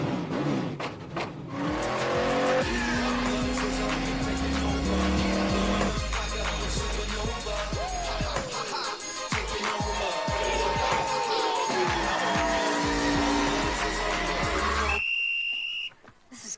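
Race cars at the 2011 STP 400 NASCAR event roar and accelerate loudly, with rising and falling engine whines, tire squeal and skidding, sustained for most of the stretch before cutting off abruptly near the end.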